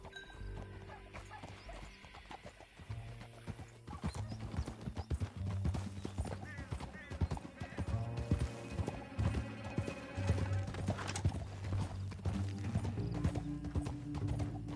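Galloping horse hooves in Red Dead Redemption 2 on PS4, a quick rhythmic clip-clop that starts quiet and grows louder and busier, with an occasional whinny, tack rattling and a low sustained musical drone underneath.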